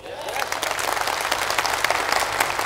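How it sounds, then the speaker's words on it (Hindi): An audience at a direct-selling motivational talk claps, a close, busy patter of hands that begins abruptly and stays lively and even throughout. "मेरे दोस्त, इस काम के लिए ताली बजना चाहिए कि नहीं?"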